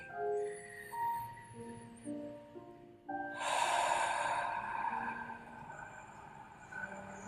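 A single long, full exhale during a guided Taoist meditation, rising as a soft breathy rush about midway and trailing off, heard over gentle sustained tonal music.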